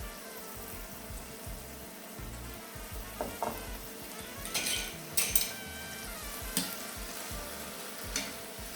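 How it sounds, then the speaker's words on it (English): Heavy cream poured into a hot pan after searing a peppercorn-crusted New York strip, a moderate sizzle with intermittent utensil scrapes and clinks against the pan as it is stirred. "So I'm going to add my heavy cream."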